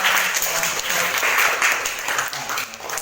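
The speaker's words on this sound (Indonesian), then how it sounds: "kita berikan aplaus luar biasa" A classroom of students applauds together, a dense, steady burst of clapping that stays loud and continuous for about three seconds with faint voices mixed in.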